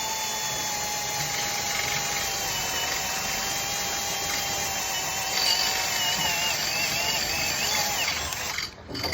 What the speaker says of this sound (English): It actually drills the hole faster.